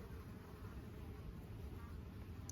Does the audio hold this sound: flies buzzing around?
yes